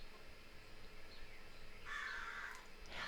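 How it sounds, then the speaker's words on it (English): Crows caw from a tree at a distance, a couple of harsh, drawn-out calls in the second half rising over a faint, steady outdoor background. "the crows are coming in"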